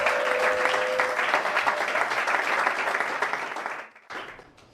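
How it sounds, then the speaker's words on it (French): A wedding blessing congregation breaks into loud, sustained applause and cheering for the newlywed couple, a dense clapping roar that holds steady for about four seconds before stopping abruptly, then a brief softer burst. "Est-ce qu'on peut acclamer pour eux?"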